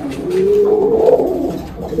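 A pure Fulsia pigeon in its loft gives a single long, rolling coo up close, swelling and then fading.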